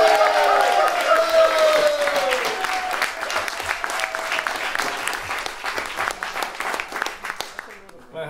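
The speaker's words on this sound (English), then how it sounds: "if we could please get another round of applause for Taylor and Rachel" A concert audience breaks into loud, sustained applause with some cheering as a sung or played note fades out at the start, the clapping dense and close throughout before tapering at the end.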